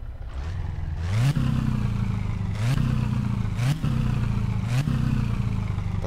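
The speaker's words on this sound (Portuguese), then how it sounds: "Satsuma com novo som do motor" A Satsuma car engine in the video game My Summer Car idles and repeatedly revs up in short rising bursts, roughly every second or so, with a steady mechanical rumble underneath.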